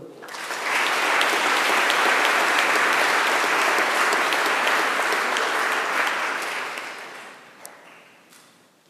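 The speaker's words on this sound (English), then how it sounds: "Let's give them one more round of applause." An audience at a university honors chapel applauds scholars with a sustained round of clapping that swells quickly, holds steady and fades out near the end, with a few stray claps.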